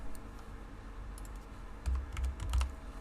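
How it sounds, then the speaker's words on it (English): Steady typing on a computer keyboard while coding, soft close key clicks that grow into a quicker cluster of louder taps near the end, with no voices. "Typing in"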